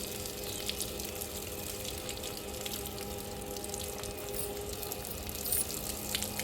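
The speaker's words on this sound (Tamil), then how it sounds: "அருவி மாதிரி கொட்டுது." Water from a motor pump gushing out like a waterfall, a steady, faint, noisy rush with no breaks, heard from a short distance.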